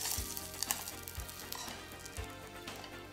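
A tuna melt sandwich fries in olive oil in a pan, a soft, continuous sizzle with a few light crackles and pops scattered through it.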